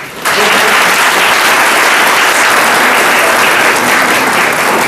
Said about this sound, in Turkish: Ve onları huzurlarımıza bir koca alkışla.